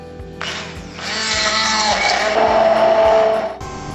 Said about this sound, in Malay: Bahan-bahan ini perlu dikisar. Untuk kuantiti kecil, saya gunakan hand blender sahaja.